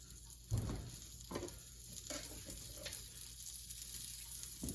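Salted fat edge of a Berkshire pork chop searing in a hot pan, giving a steady low sizzle with a soft thump as it goes in, fairly quiet and without talk.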